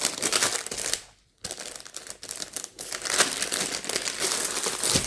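A standard plastic bag holding a 50 by 50 diamond painting kit crinkles and crackles loudly up close, handled in bursts with a brief pause.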